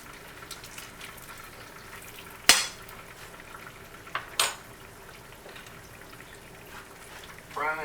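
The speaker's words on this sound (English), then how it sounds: "Frying just nicely." Fried peach pies sizzle steadily in hot oil, a soft continuous frying hiss broken by a few sharp clinks of a fork turning them, with no talking.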